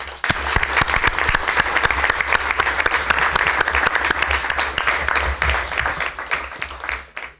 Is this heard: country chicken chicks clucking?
no